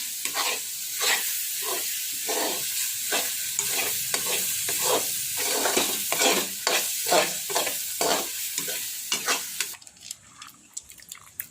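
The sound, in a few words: stirring egg curry sizzling in oil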